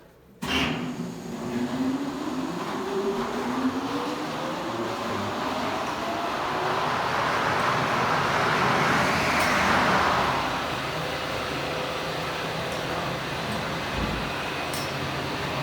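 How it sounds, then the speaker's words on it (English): An old mining machine at a museum is switched on and runs with a steady, loud mechanical roar that swells as it gains momentum, with a rising whine early on, heard without talk. "Give me a moment here and I'll turn it on for you, Rick."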